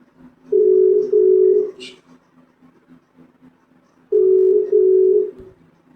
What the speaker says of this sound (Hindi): बस बस बस फोन कर रहा हूं।